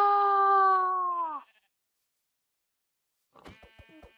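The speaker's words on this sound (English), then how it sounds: "let's go get some sheep" Sheep in the Minecraft video game give one loud, wavering bleat lasting over a second. A short silence follows, then a few quick clicky game sounds.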